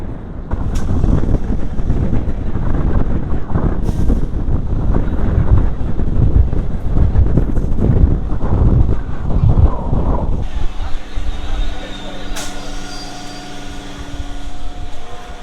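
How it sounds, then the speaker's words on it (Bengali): A Howrah to Digha local train runs at speed with a steady rumbling clatter and rushing wind for about ten seconds, then the noise drops to a quieter hum with faint tonal whines as the train eases off. "ট্রেন কিন্তু ভালোই টানছে বেশ"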